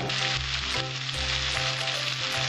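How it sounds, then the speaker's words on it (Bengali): Raw jackfruit and prawns sauté in a pan with a bright, continuous sizzle and a low hum running beneath it, close and steady for a few seconds with no talk. "এইবার আমি 2 মিনিট আর একটু কষাবো ভালো করে।"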